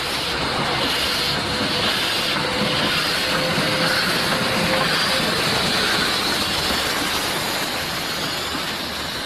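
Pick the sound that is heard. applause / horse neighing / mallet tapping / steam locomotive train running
steam locomotive train running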